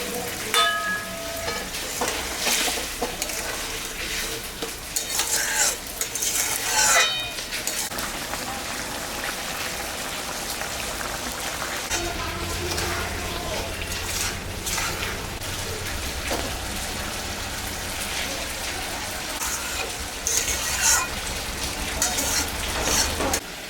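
Pakoras fry in hot oil in a home kitchen pan, a steady crackling sizzle running throughout with occasional stirring clatter and a few brief faint voices.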